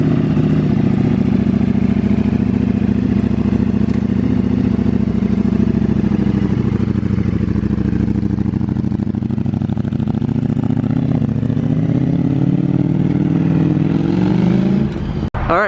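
A 2020 Ducati Streetfighter motorcycle engine runs steadily close by, a continuous low rumble with slight mechanical clatter that holds even for about fifteen seconds before cutting off abruptly at the end.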